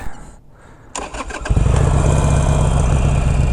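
A motorcycle engine cranks briefly and catches, then settles into a loud, steady idle close by, with no talking over it.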